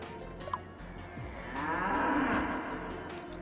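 A cow lets out a long, low moo inside a cave in the video game Miitopia, heard alone and fairly faint after a brief click.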